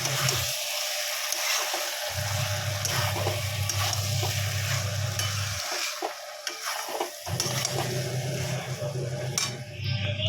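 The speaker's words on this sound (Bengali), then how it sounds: "পোস্ত দিয়ে দিলাম, পোস্ত দিয়ে ভালো করে এবার ভাজবো।" Potatoes and poppy seeds fry in a pan, with a soft continuous sizzle broken by bursts of stirring and scraping against the metal, set beside cauliflower.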